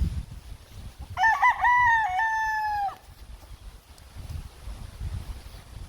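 A rooster being caught and held lets out a single loud crow lasting under two seconds, close by, with quiet rustling and handling noise before and after.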